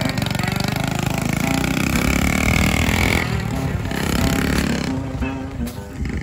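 A revived Honda Mini Trail motorcycle, brought back after ten years of neglect, runs with a rough, sputtering engine note close by, the tone shifting as it is ridden over flat ground for several seconds.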